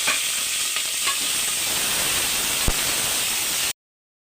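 Onions and green chillies fry with cumin, fenugreek and mustard seeds in a pan for a tomato curry, giving a steady, close hiss of sizzling oil with a few faint stirring clicks before the sound cuts off.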